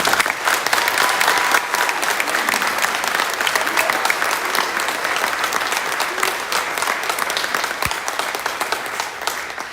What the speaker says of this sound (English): Please give Cameron Hovey a round of applause.